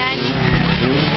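Motocross motorcycle engines in a beginner production race in Rizal roar steadily at high revs, loud and continuous, with a race announcer talking over them.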